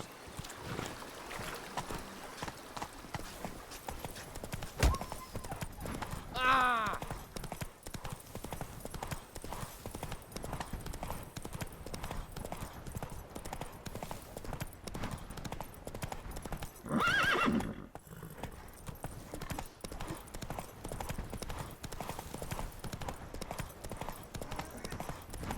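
Horse hooves galloping in The Witcher 3 video game, a steady rapid clip-clop running throughout over wind and ambient noise, with two brief horse whinnies standing out along the way.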